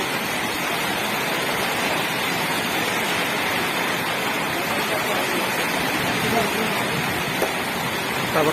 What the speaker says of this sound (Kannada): ರೋಡಲ್ಲಿ ನೀರು ಹೋಗ್ತಾ ಇದೆ ನೋಡಿ